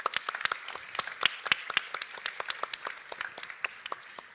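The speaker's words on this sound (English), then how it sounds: "give yourselves a round of applause as well" An audience at the NG Rome 2022 Angular developer conference claps together in a steady, dense burst of applause lasting a few seconds, with no voices over it.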